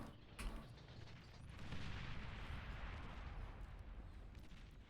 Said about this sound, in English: Plasma artillery?